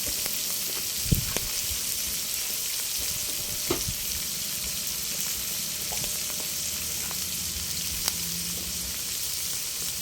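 Bopis fries in a pan with a continuous close sizzle while being stirred, faint scraping and clicking of the utensil breaking through now and then, no voices.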